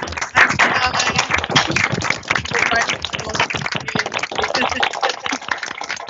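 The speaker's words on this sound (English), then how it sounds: "can we all come off mute and give Jodie a round of applause?" Participants in an online meeting applaud together, many separate hands clapping in dense, uneven bursts that sound close and slightly compressed, continuing steadily before thinning out toward the end.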